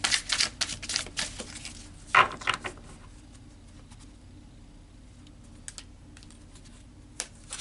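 Tarot cards are shuffled by hand in a past-life reading, with a cluster of crisp, clattering riffles near at the start, then sparse faint ticks over quiet.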